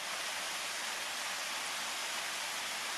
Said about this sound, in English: So here we are at the falls.